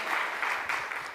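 Audience applause at a stage performance of comic songs, a steady dense clatter of many hands clapping that holds evenly for about a second with no talk over it.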